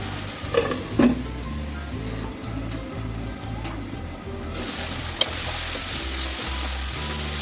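Small shrimp sauté in a hot pan for a Malabar spinach (puishak) dish, giving a steady close sizzle with occasional stirring knocks that grows louder and hissier toward the end.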